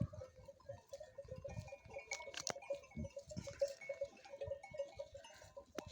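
A lamb on a mountain pasture with a shepherd, bleating several times in short calls over outdoor noise, with a faint bell-like clink and rustling around it.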